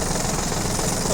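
A Yanmar RS30 Japanese mini tractor's engine running just after starting, a steady, dense mechanical drone with low rumble and no pauses, loud and close throughout the short stretch.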